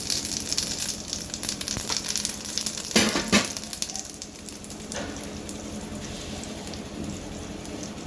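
Cumin seeds sizzle in hot oil in a pan at the start of a paneer bhurji, a continuous close crackling hiss with a brief louder burst of spattering near the middle.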